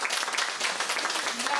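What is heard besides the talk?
applause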